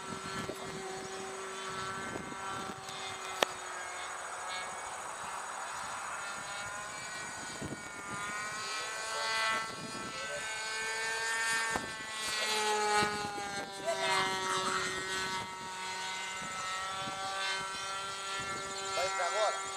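A model float plane with skis flying overhead, its small engine a thin steady buzz at moderate distance, with people chatting throughout.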